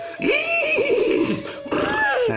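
Someone mimics a horse's whinny with a long shaky neigh, followed by a second shorter one close to the listener.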